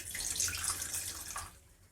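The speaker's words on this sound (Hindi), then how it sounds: "अब इसे गोल गोल घुमाते हुए इसका सारा पानी निकाल लेंगे।" Grated radish twisted in a cloth for mooli paratha gives off a steady splashing stream of squeezed-out water, fairly close and continuous, tapering off toward the end.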